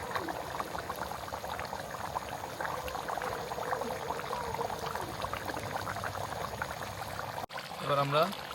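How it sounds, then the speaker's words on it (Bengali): Broth streams steadily into a village-style spicy masala pork curry after the meat is sautéed, a continuous close pour and sizzle ending in a sudden cut, with a voice briefly at the end. "এখন আমরা ঝোল দিয়ে দিব"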